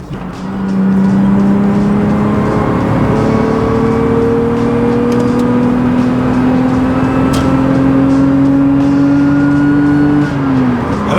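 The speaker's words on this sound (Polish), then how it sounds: "to jest kompresor i po prostu jest na moim kółeczku i robi po prostu duże obroty, dlatego tak właśnie świszczy jak odkurzacz" A supercharged Lexus cruises with a steady, loud high-pitched supercharger whine over the engine drone, the pitch rising slowly as revs climb and dropping near the end, with no voices.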